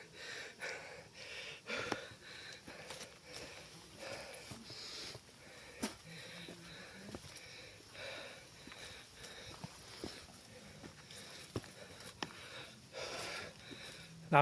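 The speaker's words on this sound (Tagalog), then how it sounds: "Ano, hingal ka na rin, no?" Heavy, ragged panting and sniffing from hikers climbing a steep uphill trail to Nagpatong Rock in Tanay, Rizal, close and uneven breaths that come in bursts, with occasional footsteps and a few brief voices.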